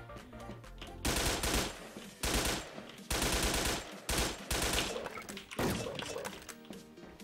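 Close, loud bursts of automatic gunfire in the online shooter Wolfteam, about six rapid volleys spaced roughly a second apart, separated by brief quieter gaps and no speech.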